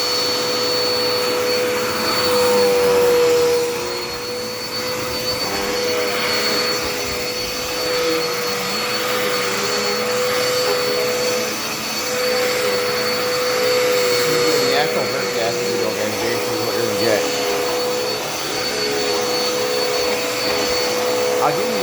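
A red Dirt Devil Endura Reach vacuum cleaner running continuously indoors, a loud steady motor whine and airflow hiss with slight shifts as it moves across the floor.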